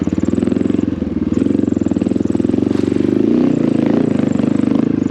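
Honda XR650L motorcycle engine labouring to climb a slope, a steady close throbbing chug that holds for the whole stretch, loud and unbroken, with no voices over it.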